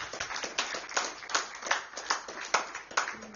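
A small audience claps for Sarah, steady overlapping hand claps with distinct sharp peaks, fairly close and moderately loud, with no voices over it.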